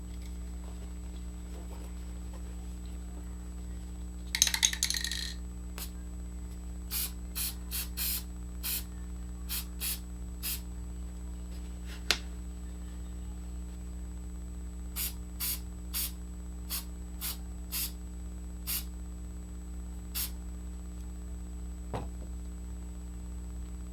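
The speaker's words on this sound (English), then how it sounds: "now we're ready to hit them with the Krylon matte finisher. So we're gonna go ahead and spray these" Krylon matte finisher is sprayed from an aerosol can onto custom Air Jordan 1 Mid sneakers: one longer hiss followed by many short, evenly spaced bursts over a steady background hum.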